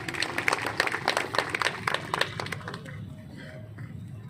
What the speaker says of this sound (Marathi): याच्याबद्दल तुम्ही एकदा टाळ्या वाजवा